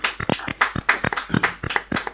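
A church congregation at a French-language service claps in a steady, quick rhythm, the sharp beats close and fairly loud for a brief moment.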